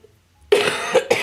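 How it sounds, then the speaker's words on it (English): A person coughs: one harsh burst followed quickly by two shorter coughs, close and fairly loud after a moment of quiet. "Please excuse my cough."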